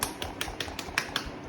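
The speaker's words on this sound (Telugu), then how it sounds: "క్లాప్స్." Sharp hand claps sound in a home kitchen during a children's Gulab Jamun cooking class, six quick, fairly faint claps in a steady rhythm.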